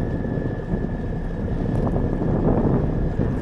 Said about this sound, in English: You can hear the change in the motor.